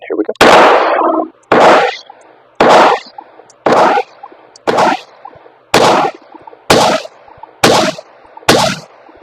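Ten sharp, loud .22 semi-automatic pistol shots fired one after another at a steady pace of roughly one per second, each crack followed by a brief ringing tail, close to the listener.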